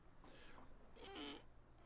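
A pet cat lets out a brief, faint vocal noise, a soft meow-like call rising over low room hiss, heard close but quiet with no talk.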